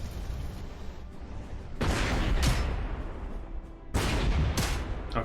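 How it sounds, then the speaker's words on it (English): Artillery fire in the World War II strategy game Corps 2, set in a 1943 campaign: two pairs of heavy booming blasts ring out over a constant low rumble of battle, each impact loud and close. "They still took a massive artillery hit though."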